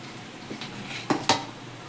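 A metal pressure cooker lid is set onto the cooker for a mushroom biryani, two quick clanks close together after a faint rustle, near and clear with no voices.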